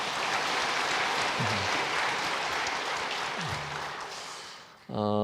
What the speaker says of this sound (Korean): 모두 우리 환영의 박수, 격려의 박수 하겠습니다